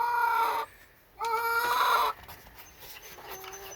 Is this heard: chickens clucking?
yes